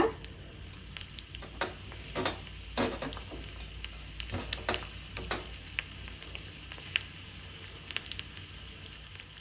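Mustard seeds, cumin and crushed garlic fry in hot oil for a tomato mint chutney tempering, crackling in quick sharp pops and light sizzling, with occasional stirring clinks, close and steady.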